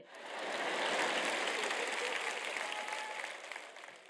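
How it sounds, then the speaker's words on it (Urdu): Steady applause from a gathering at a Christian church talk, a dense wash of many hands clapping that swells quickly, holds for several seconds, then begins to thin out. "کہ کم از کم یہاں ایک شخص موجود ہے جو تالی بجا رہا ہے،"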